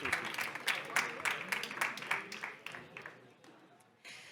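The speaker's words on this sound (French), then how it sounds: "on peut applaudir nos intervenants et les prochains qui montent sur scène" Audience at a French plenary conference applauds the speakers taking the stage, moderately loud clapping with distinct close claps that thins over a few seconds and dies away.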